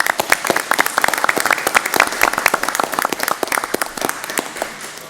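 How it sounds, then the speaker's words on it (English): An audience at a town deliberative session breaks into lively applause for the equipment crew, many distinct claps in a loud, sustained burst that tapers slightly over five seconds. "They deserve a big round of applause for doing what they did."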